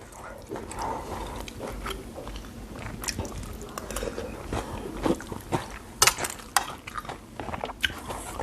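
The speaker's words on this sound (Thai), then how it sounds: "ช็อกโกแลตเดี๋ยวมากินแก้เผ็ด" Someone eats chocolate to cool the burn of a very spicy Thai papaya salad served with beef steak; soft close biting and chewing with squishy mouth sounds, under intermittent talking.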